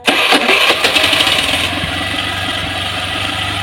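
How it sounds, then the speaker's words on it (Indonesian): A carbureted Honda Vario 110 motorcycle engine cranks with a few sharp sputtering bursts, catches, then settles into a steady, close idle that runs on evenly with no talk. "sekarang saya kontak, hidup nggak motor ini ya"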